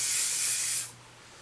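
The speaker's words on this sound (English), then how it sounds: "All I'm gonna do is spray some hairspray." Hairspray from an aerosol can hisses in one steady, close burst for under a second, then cuts off to quiet room tone.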